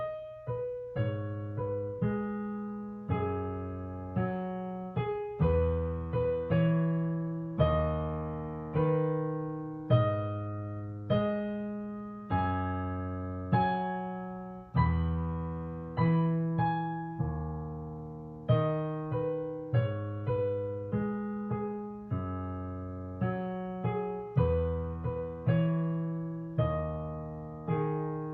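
Piano plays a repeating loop slowly, evenly spaced struck chords over a descending bass figure, each note decaying before the next, close and clear with no talking.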